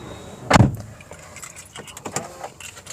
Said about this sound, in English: And let's close the door.